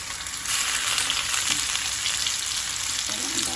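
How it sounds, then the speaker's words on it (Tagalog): Steady, close sizzling of potatoes, saba bananas, carrots and bell pepper frying in hot oil, with faint stirring and a few soft clinks. "I-prito natin lahat yung patatas natin, saging, carrots, yung ating bell pepper, prito na natin yan."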